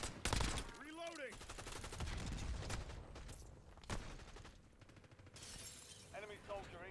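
Gunfire rattles through a Call of Duty Warzone match in bursts and shattering cracks, fairly close and dense, with in-game voice chatter and callouts layered over the shooting.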